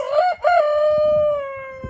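A single loud rooster crow rings out close by outdoors in the frost of early spring, one long drawn cock-a-doodle-doo, followed by faint clucking and rustle.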